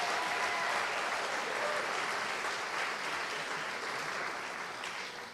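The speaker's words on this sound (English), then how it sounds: "can we give her one more round of applause?" Applause fills a convocation hall, a wide, even wash of many hands clapping at a moderate distance, holding steady and then easing slightly toward the end.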